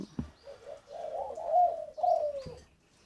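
A spotted dove coos in a single short phrase of soft, low, wavering notes, faint and fairly near against a quiet background.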